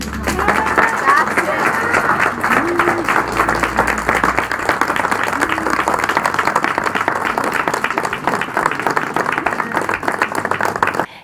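An Italian gathering applauds in thanks and farewell to a retiring national team player, a dense, continuous patter of clapping lasting around eleven seconds before cutting off.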